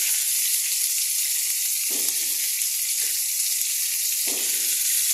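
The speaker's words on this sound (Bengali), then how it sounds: "এবারে আলুটা ভাজবো ভালো করে।" Potatoes, cauliflower and other vegetables fry in hot oil with a loud, continuous sizzle, punctuated by a few low stirring scrapes as the pieces are turned.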